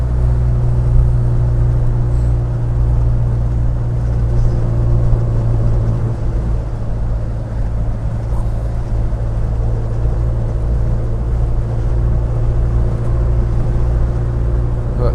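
Norfolk Herald car engine held at high revs while driving, a steady loud drone and rumble running throughout with no breaks and no voices.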